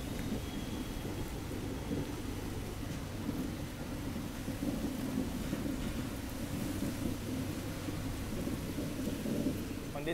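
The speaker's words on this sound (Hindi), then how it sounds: "बाहर बहुत तेज बारिश शुरू हो गई अभी" Heavy rain pours steadily and loudly outside a moving train throughout, a dense continuous roar with a low rumble underneath and no voices.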